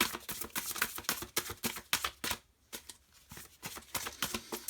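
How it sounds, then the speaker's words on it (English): A new deck of large oracle cards being shuffled by hand, a rapid run of crisp papery riffles and slaps in quick bursts, close and clear with a brief pause midway. "they are quite big, and I do find them quite difficult to shuffle"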